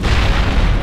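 Grenade explosion in the video game Mass Effect, a brief loud low boom filling the whole clip with a dense rumbling body and no voices over it.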